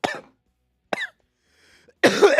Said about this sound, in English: I almost choked on ice.